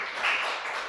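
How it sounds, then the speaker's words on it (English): A short, steady wash of audience applause for a storyteller at a university debate championship, moderately loud and continuous for under a second. "You can clap again for her."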